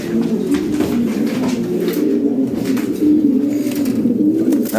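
Fancy pigeons, including Lahori birds, coo steadily at close range in a loft, overlapping low rolling calls repeating without pause, with faint voices in the background.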